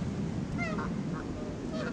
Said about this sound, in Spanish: Pelea de gansos.